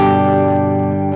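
A guitar plays through a Fractal FM3 modeller set to a Fender Deluxe Reverb amp model, ringing one loud sustained chord with reverb that slowly fades, then a brief new attack at the end.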